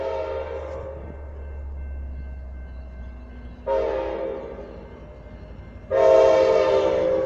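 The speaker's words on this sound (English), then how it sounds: "now there's a fast Amtrak train going north." Horn blasts from a fast Amtrak passenger train heading north on a BNSF main track, sounding in loud sustained bursts over a steady low rumble and growing louder toward the end, with no voices.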